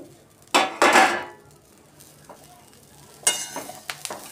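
Sambar wadi filling stirred and sautéed in a pan, with a couple of loud scraping, sizzling bursts near the start and again near the end, separated by quieter stretches of faint pan noise.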